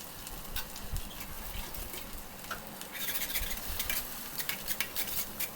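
Egg being stirred and mixed into torn parotta pieces for chicken kothu parotta in a pan, a steady scraping stir with faint sizzling and brief utensil clinks throughout, no voices.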